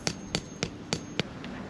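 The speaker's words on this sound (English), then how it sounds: "Hammering this in." Five sharp hammer strikes at a steady rhythm, then a fainter sixth tap, close and crisp against a quiet background, while setting up outdoor Halloween decorations.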